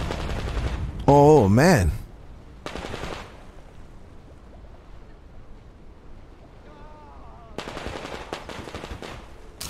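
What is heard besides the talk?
gunfire from a new gun in video game Metro Exodus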